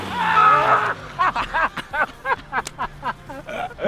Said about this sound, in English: More rev limiter.